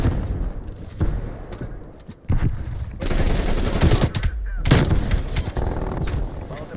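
Rapid submachine gun fire from an MP5 in a first-person shooter, loud bursts through much of the span, with a brief drop near the middle and game sounds and talk over it.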